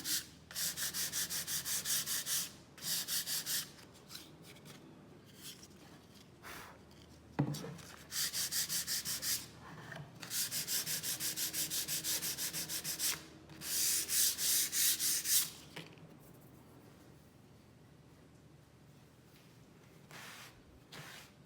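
Sandpaper rubbed over a wooden farmhouse sign to give it a distressed, worn look, close rasping strokes in several bursts of a second or two, separated by brief quiet pauses.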